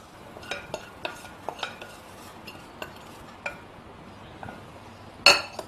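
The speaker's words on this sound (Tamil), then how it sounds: "இப்போ இதை இந்த மாவுல கலந்துக்கலாம்." A spoon mixes chopped coriander into idli batter in a bowl, giving a series of light, irregular clinks and taps over a soft background hiss, ending in one sharper, louder clank.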